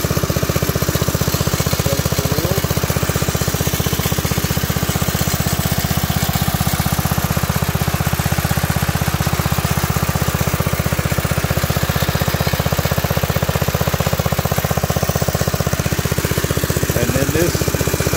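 A 1980 Locke model 70 triplex reel mower runs steadily for the whole stretch, a constant buzzing engine drone with no breaks, close and loud.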